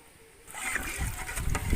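Water pours into a pot of rice for vegetable biryani cooked on a village wood-fired stove, a splashing, gurgling stream that starts after a quiet moment and grows louder and fuller over under two seconds.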